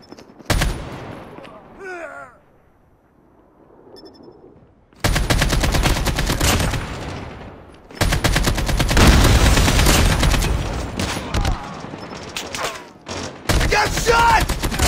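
Rapid automatic gunfire from the Call of Duty Mobile video game: a short burst, a near-silent pause, then long, loud, dense volleys of shots rattling almost continuously to the end.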